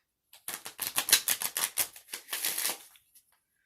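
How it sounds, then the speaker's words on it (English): An Archangel Oracle card deck is shuffled at close range, giving a quick run of about a dozen crisp riffling flutters over roughly two and a half seconds before the cards settle, with no talking. "Let's go ahead and shuffle on the Archangel Oracle deck."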